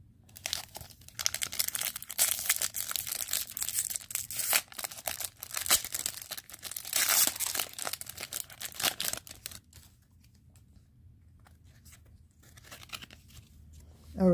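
A pack of baseball cards is torn open and the slippery cards are handled, producing dense crinkling and tearing of foil wrapper for about ten seconds, then quieter rustling. The sounds are close and there is no talking.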